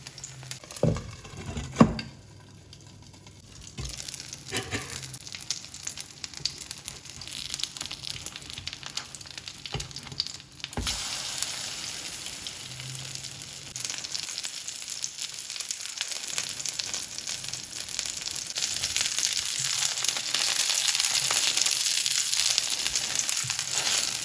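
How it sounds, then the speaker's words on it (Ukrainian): Steady sizzling of battered tomatoes and onion rings frying in hot oil, a continuous crackling hiss that grows fuller and louder after a few light clatters at the start. "Обсмажу спочатку з однієї сторони, потім з другої сторони до золотистої шкуринки."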